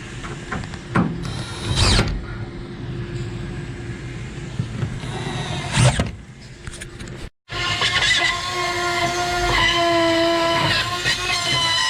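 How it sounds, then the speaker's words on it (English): Power drill driving a screw into drywall, whirring in several short bursts with a brief pause, then a longer loud run close by. "All right, Clancy, let's bust a screw in here."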